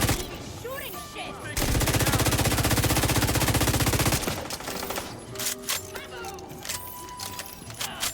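Rapid automatic gunfire in The Division 2 rattles in a sustained loud burst lasting a few seconds, followed by scattered single shots, clicks and game effects over a busy background.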